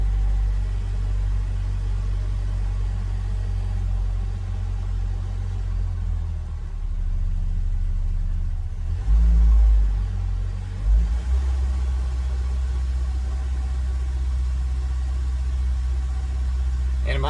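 Ford Ranger engine running after a fuel pump swap, a deep steady idle rumble that swells once in a short rev mid-way before settling back, close and fairly quiet with a voice talking over it.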